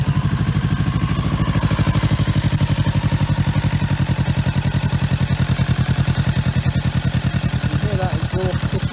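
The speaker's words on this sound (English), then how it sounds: "You hear that exhaust kicking in," A 2021 Kawasaki Ninja 650 sports bike idles close by, its engine and exhaust thumping in a fast, even rhythm that stays loud and steady throughout.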